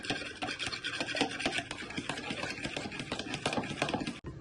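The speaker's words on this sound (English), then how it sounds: "With your fork, you want to give them all a good whisk." A fork whisked briskly around a bowl, mixing brownie cheesecake ingredients, gives a steady, continuous rapid scraping and clinking close up, heard alone without talk.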